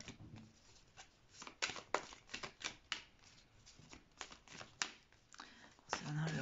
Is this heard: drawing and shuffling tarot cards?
yes